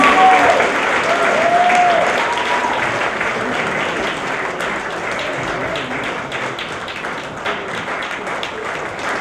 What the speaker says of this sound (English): Big round of applause to Chandramani, please.